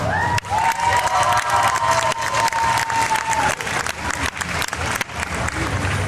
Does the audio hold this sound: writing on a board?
no